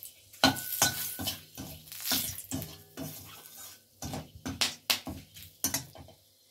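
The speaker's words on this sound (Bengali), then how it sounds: "এবারে তেলে আমি দেব গোটা গরম মশলা ফোড়ন, দারচিনি দিয়ে দিলাম একটা তেজপাতা।" Whole garam masala, cinnamon and a bay leaf hit hot oil in a pan used for frying fish, with irregular clinks and scrapes of a utensil against the pan over a soft sizzle.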